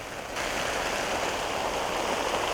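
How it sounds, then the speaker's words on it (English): Steady rain falls on a UK allotment in July, a dense, even hiss of drops close by that holds at constant loudness throughout, with no voices. "Something about picking vegetables in the rain, isn't it?"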